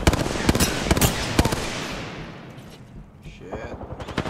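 Gunfire in the video game Apex Legends: rapid, loud bursts of shots with sharp cracks through the first half, then quieter scattered shots, while a player speaks over the action.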